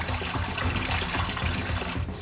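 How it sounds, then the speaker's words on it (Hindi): River water flows through a narrow cave passage, a continuous close trickling and gurgling wash with no voices over it. "कल कल बहती ये नदी दिन में जितनी खूबसूरत लगती है"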